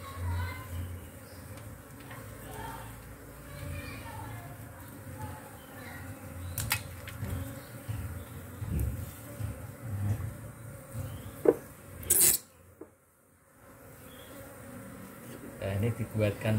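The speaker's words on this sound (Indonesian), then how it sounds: "Ini tawon." A swarm of honeybees nesting in a wooden bookcase cupboard gives off a steady, close buzzing hum that carries throughout, with a few knocks and brief handling noises partway through.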